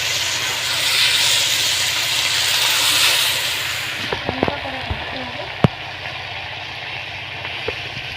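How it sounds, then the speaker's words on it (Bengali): Pond fish goes into hot, lightly fried spice paste for a fish jhal, giving a loud, steady hiss for about four seconds, followed by scattered clicks and scrapes as the frying calms. "এবারে আমি দিয়ে দিচ্ছি মাছ। মাছ দিয়ে আবারও আমি কষিয়ে নেব।"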